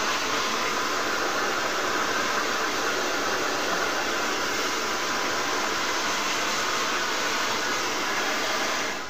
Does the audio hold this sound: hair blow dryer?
yes